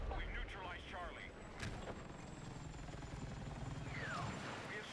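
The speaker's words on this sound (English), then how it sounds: "I hear a helicopter, I don't fucking see one." Helicopter flying overhead in a first-person shooter video game, a steady low rotor rumble running through the scene, with speech and sharp gunfire-like bursts layered over it.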